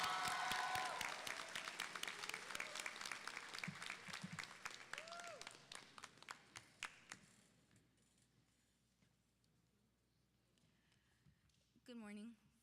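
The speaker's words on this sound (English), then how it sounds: "Please give a warm round of applause to Ms. Jocelyn Meneses." Loud applause from a crowd at a high school graduation ceremony fills the first several seconds, then fades out to near silence, followed by a brief voice at the end.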